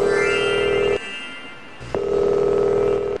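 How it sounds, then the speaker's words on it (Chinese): Telephone call being placed from a TV antiques appraisal show studio: a steady electronic ringback tone sounds, breaks off for about a second, then resumes, loud and clear with no talk. "请工作人员为这位藏友电话连线。"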